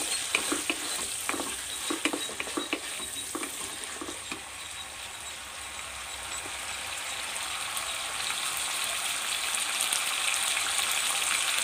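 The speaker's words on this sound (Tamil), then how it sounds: "காஞ்சி மிளகாய் கட் பண்ணி போட்டுருக்கு. நல்லா வதங்கிட்டுருக்கு." Sliced big onions and cut dried red chillies sautéing in a pan for onion sambar, a steady close hiss of sizzling oil with light scraping stirs early on, then an even, continuous fry.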